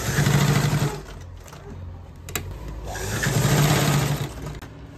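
A sewing machine runs in two bursts of rapid stitching along the border of a quilt pieced from old saris, with a short pause between runs, close and fairly loud.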